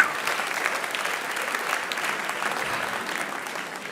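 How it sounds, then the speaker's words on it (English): A TEDx audience in Oxford gives a round of applause, a steady wash of clapping from a large crowd heard at moderate distance, with a faint voice underneath. "Give them a round of applause."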